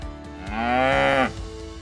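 A dairy cow in a barn gives a single long, rising moo, close and clear over faint background noise.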